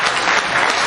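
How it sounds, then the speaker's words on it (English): A burst of applause from a podcast audience, dense and loud clapping that fills the whole short moment without any pause. "Y'all give a round of applause for that"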